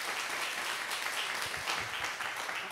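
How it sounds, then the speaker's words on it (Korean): A church congregation at an elder's retirement service gives a round of encouraging applause, heard as a soft, steady, fairly distant wash of clapping with no clear voices. "격려 박수 한번 쳐주시기 바랍니다"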